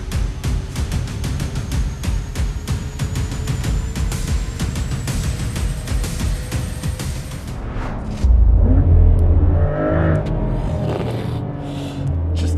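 A 2025 Porsche Macan Turbo engine climbs steadily in pitch through a long rev before a gear change, then drops into a deeper, louder rumble that settles lower; no talking.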